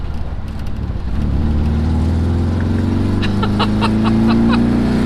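A car whose engine lacks power drones at steady low revs, the hum rising slowly in pitch as it labors to gain speed, close and continuous, with faint ticking in the background.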